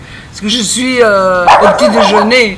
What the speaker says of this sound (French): c'est mon chien qui est très vocal en ce moment